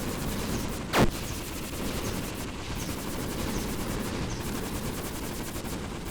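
A laser weapon fires in the game Approaching Infinity Survivors, a dense rapid stream of buzzing shots under steady noise, with one sharper louder burst early on.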